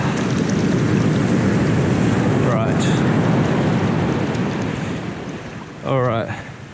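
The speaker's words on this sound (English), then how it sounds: "Oh, the waves are coming up." Ocean waves wash up onto the beach at Waipatiki, New Zealand, a loud continuous roar of surf mixed with wind buffeting the microphone, swelling again near the end, with brief squeaky sounds over it and no talking.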